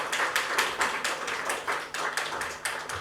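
Audience applause with dense, steady clapping from many hands, sustained throughout with no voices.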